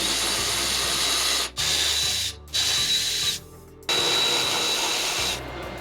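A hand ratchet removing bolts while a Seibon carbon hood is installed on a Nissan R32 Skyline, loud and close, with continuous rapid clicking in long runs separated by brief pauses.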